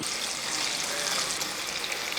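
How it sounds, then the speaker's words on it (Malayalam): Snack pieces deep frying in hot oil over a high flame, a steady dense hiss and fizz with fine bubbling that holds evenly throughout, close and moderately loud with no voices. "ഇതേപോലെ തന്നെ ബാക്കി കൂടെ നമുക്ക് വറുത്തെടുക്കണം"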